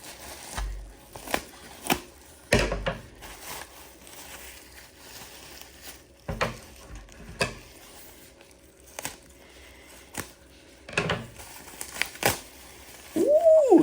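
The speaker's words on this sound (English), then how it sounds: "Let's cut this thing open." Cutting open a package shipped from Japan holding toys, with scattered crinkling, tearing and snipping bursts of packing material, close and sharp, separated by short quiet gaps.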